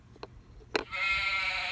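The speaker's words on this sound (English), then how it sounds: "Let's hear what the sheep says." A sheep bleats in a farm setting, with a couple of short clicks first and then one sustained, wavering bleat, close and clear with no talking.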